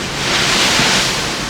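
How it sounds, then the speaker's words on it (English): Strong storm wind roaring across the open deck of the P&O Iona cruise ship during Storm Arwen, a loud steady rushing blast close to the microphone with no talking. "This is how windy it is."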